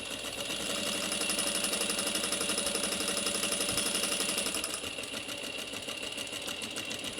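A sewing machine stitches a seam on a small pleated bag at about 3.5 stitch length with a quarter-inch allowance, giving a steady, close, rapid mechanical whir that runs continuously, easing slightly near the end.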